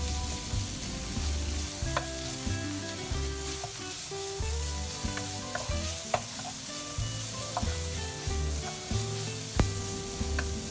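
Minced meat stir-fried with sambal in a wok, a continuous sizzle broken by rhythmic scraping and tossing strokes of a spatula, repeated clanks throughout, close and without talk.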